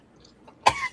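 A single harsh cough bursts out after a quiet stretch, caused by vaping cannabis, with a short throat-clearing rasp trailing off close to the microphone.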